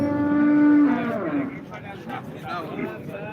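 A cow at the Modnimb cattle market gives a loud, sustained moo up close, followed by lower market noise as someone talks nearby.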